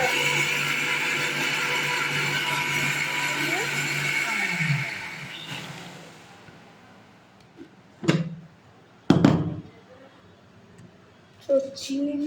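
A blender whirs steadily while making a lychee drink, then winds down and stops about halfway through, followed by a few sharp knocks and clatters close by.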